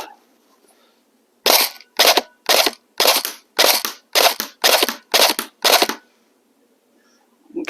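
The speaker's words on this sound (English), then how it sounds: "Single shot." M16A1 replica rifle firing single shots: nine loud, sharp cracks in a steady, evenly spaced rhythm, close up, with near silence before and after.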